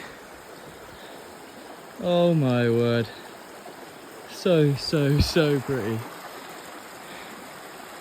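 A stream near Mae Yen Waterfall flows in a steady close rushing hiss throughout, with someone speaking excitedly over it in two short bursts.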